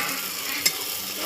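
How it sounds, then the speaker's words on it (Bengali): Grated tomato hitting hot oil in a pan: a steady close sizzle and hiss with one brief sharp spit partway through, without any talking. "এই টমেটোটাও দিয়ে দেবো এবার"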